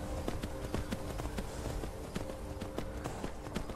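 Horse hooves clip-clopping at a steady gait while riding in Skyrim VR, a regular rhythm of muffled thuds throughout, fairly quiet under a low ambient hum.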